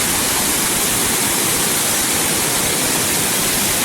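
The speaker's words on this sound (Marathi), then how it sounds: "हा हरवलेचा धबधबा आहे" Harvalem waterfall in North Goa pours in a steady, dense roar of falling water, loud and unbroken, filling the whole scene with no voices.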